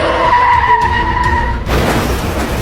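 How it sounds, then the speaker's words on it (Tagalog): A car's tires skid and squeal loudly and close in a sustained screech, then give way to a broad, noisy rush as the car collides. "Yung sasakyan nagkabanggaan."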